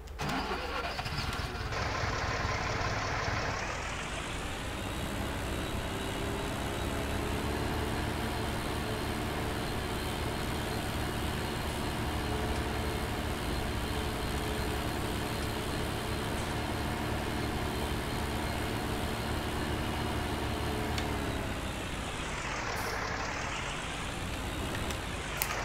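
Tractor in the Farming Simulator 19 game starts up and drives steadily, a constant loud mid-pitched engine drone with a rising rev near the start and a brief dip and recovery toward the end, no talking.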